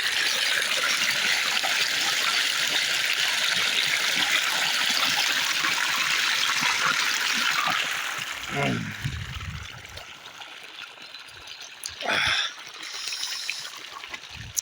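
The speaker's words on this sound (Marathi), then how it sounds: "त्यात चालणाऱ्या विहिरीवरच्या मोटरीचं पाणी आहे" Steady, loud rush of water pouring out of a well's motor pump for several seconds, then easing off, with a couple of brief knocks and splashes near the end.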